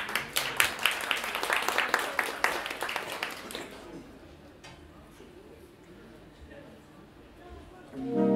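Audience applause after a saxophone quartet plays a concert piece: dense, lively clapping for several seconds that thins out and fades into quiet room tone, with a faint rise of sound at the very end.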